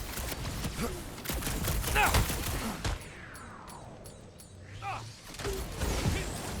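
Bursts of weapon fire from Marvel's Guardians of the Galaxy crackle in quick rapid volleys early on, then ease off into a lighter patter with occasional shots, mixed with character voices calling out over the combat.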